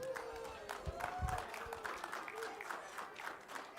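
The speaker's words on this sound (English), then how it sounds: "So everyone, give yourselves a round of applause." Guests at an outdoor reception clap in a loose, moderately quiet patter, with a few sharper claps standing out while talk and sustained tones carry on underneath.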